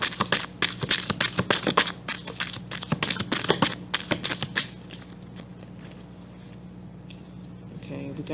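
Tarot cards being shuffled and drawn, giving a run of quick papery riffles and slaps over the first few seconds, then quieter handling with soft rustles near the end.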